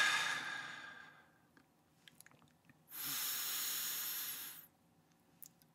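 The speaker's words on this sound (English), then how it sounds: "let me take one or two breaths, deep breaths first" Slow, deep breaths taken close to the microphone in a quiet room, heard as a long airy exhale that fades away, then a pause with small mouth sounds, then a second steady breath lasting over a second, with no talking.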